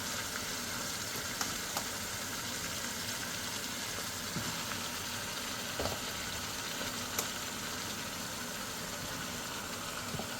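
Cooked beef goes into a pot of okra soup, and a continuous, moderately quiet sizzle holds at an even level, with a few faint clicks and taps scattered through it.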